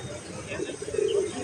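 Indian Lotan pigeons coo in a loft, low throaty calls swelling in the middle and end of the moment at close range, with some background noise and possible faint voices.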